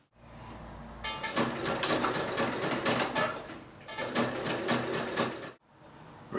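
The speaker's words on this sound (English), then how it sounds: "we're going to zigzag around here, as we did for the other side of the bag" Domestic sewing machine running zigzag stitches over a fabric edge while a trouser front pocket is finished, two bursts of rapid mechanical chatter separated by a brief pause, close and alone.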